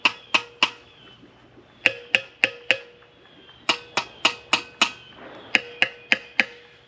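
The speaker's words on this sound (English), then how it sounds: "I'm hitting the top of each one of these valves and seeing" Sharp metallic taps struck on the tops of valves of a junkyard LS 6.0 LQ4 engine during teardown, about sixteen crisp raps in quick groups with short pauses, close and clear.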